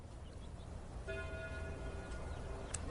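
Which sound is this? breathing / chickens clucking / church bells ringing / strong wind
church bells ringing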